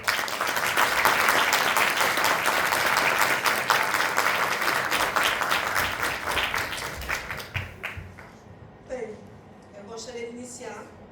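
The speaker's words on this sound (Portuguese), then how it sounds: "Eu queria pedir uma salva de palmas a todos vocês que estão aqui presentes." Audience applauds at a book launch, dense sustained clapping filling the room for several seconds before thinning out, after which a few scattered claps and a voice come through.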